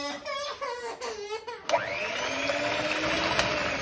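Flour, sugar, salt, baking powder, egg yolks, sparkling wine and peach purée for a chiffon cake batter being mixed: after a brief voice, a mixer whirs on abruptly and runs as a steady, fairly loud, buzzing drone to the end.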